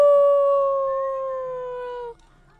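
A dog howls in one long, clear, sustained tone that slides slightly downward and fades out after about two seconds, loud and close with no talk over it.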